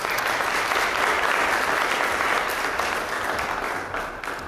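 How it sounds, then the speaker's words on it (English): Conference audience applauding a speaker being introduced, a dense, steady clapping that fills the room from start to finish and tapers slightly at the end. "Please give a strong hand of applause to Mr."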